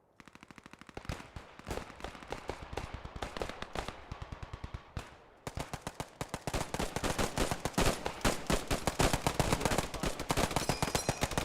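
Sustained suppressive machine-gun fire in the WWII shooter Post Scriptum, rapid rhythmic bursts of shots that grow louder and denser after a brief pause, with additional overlapping gunfire from other weapons.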